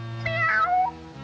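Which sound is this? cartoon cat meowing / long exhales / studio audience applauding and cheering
cartoon cat meowing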